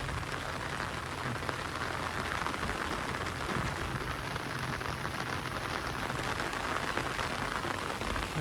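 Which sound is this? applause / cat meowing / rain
rain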